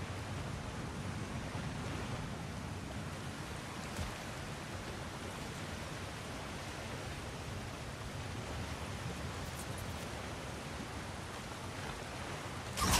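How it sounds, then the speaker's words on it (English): Water rushes steadily and evenly for the whole stretch, a dense hiss without pauses, fairly quiet, with no voices, from the video game God of War Ragnarök. "Sounds like you got the water moving along"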